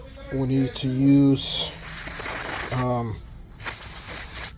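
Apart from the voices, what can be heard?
spraying brake cleaner on a brake caliper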